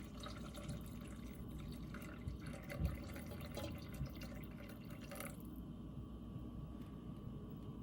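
Water poured gently into a cooking pot for banga soup, a faint, steady trickle and drip running continuously before easing off, quiet and close with no talking.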